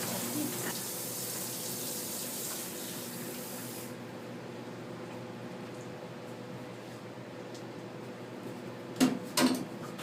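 Water runs steadily from a kitchen tap while pie is being made, a constant hiss through the first few seconds that then settles lower, ending in a couple of short knocks near the end.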